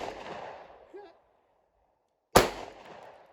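A Glock 43 pistol fires one sharp, loud crack at clay targets outdoors, with a brief ringing decay, after faint background murmur and a short silence.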